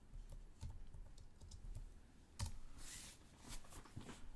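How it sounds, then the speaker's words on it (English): Keys tapped on a computer keyboard in quick, light clicks, close and fairly quiet, with a slightly louder keystroke midway and no speech. "I'm going to type page 1."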